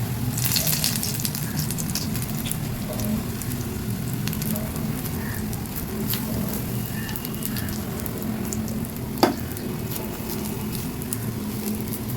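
Bread dough fries and puffs up in hot oil, a continuous moderate sizzle with soft crackles and one sharp clink near the end.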